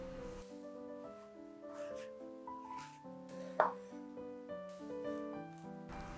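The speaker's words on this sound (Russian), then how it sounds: "У кабачков отрезаю кончики и нарезаю вот такими широкими пластинами" A knife cuts zucchini into wide slices on a board, with soft intermittent chops and one sharper knock, faint under background music.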